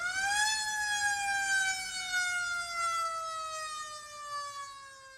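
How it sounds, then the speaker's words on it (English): An ambulance siren sounds as a steady wailing tone that rises briefly and then slides slowly downward, loud and alone with no talking. "The ambulance arrives at the hospital."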